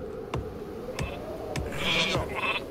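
Sheep bleating in the Northgard strategy game, a few short bleats spaced through the clip over light clicking game sounds.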